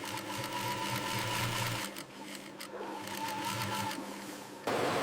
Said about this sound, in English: Operators stitch the pieces together, transforming fabric into form.